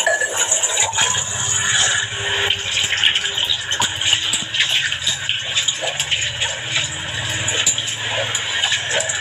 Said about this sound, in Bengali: বাসন মাজার সাউন্ড প্লাস আবার মানে জলটা যে পড়ছে সেই জলের সাউন্ড